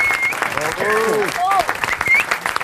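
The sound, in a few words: audience applause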